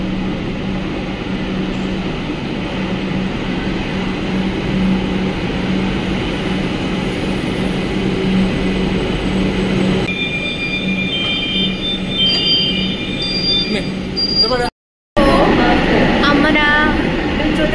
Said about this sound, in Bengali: সামনে যে মেট্রোটা আসছে, এই যে দেখতে পাচ্ছেন এই মেট্রোটা আসছে